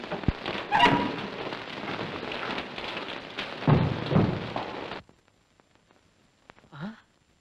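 A heavy rain and wind storm roars steadily with thick, dense noise and a couple of louder gusts, then cuts off abruptly, followed by near silence and a brief voice sound.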